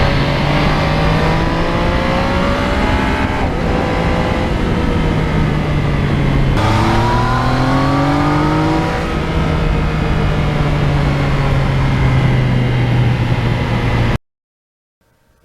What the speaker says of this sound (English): You just sit there and crack the throttle and good to go.